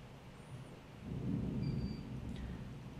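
Low rumble of thunder after lightning struck a power line during a storm, swelling midway and lingering as a distant, moderately loud roll with steady background noise.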